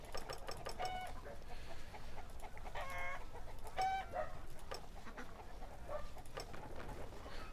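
Chickens clucking at a chicken farm in the strategy game Stronghold Legends, several short clucks and squawks scattered across a steady bed of noisy game ambience, moderately faint and with no talking.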